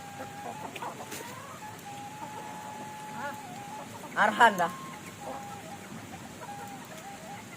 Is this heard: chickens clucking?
yes